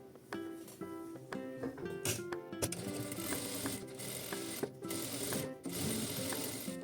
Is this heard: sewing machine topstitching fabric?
yes